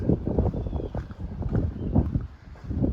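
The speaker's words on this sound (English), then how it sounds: "Wind's picking up, got some wind gusts." Wind gusts on a mountain trail as a storm front moves in, a steady low rushing roar with surging buffets of wind noise on the microphone throughout.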